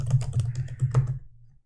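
Keys on a computer keyboard clatter in a quick burst of close, crisp strokes for about a second, then fall silent.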